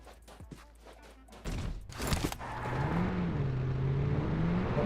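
A car in PUBG Mobile starts and drives off: a few clicks and thumps at first, then a steady engine drone that rises and holds, fairly close and loud, with no talk over it.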